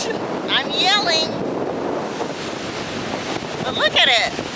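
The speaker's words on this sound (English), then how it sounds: "It's windy" Strong wind buffets the microphone on a black sand beach at Kingston, Jamaica, a loud continuous roar with waves underneath, and bird-like chirps cut through briefly twice.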